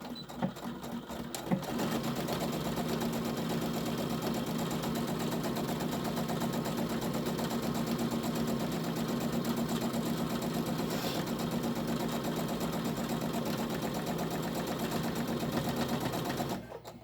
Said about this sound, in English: we're going to just go right ahead and sew all the way those 3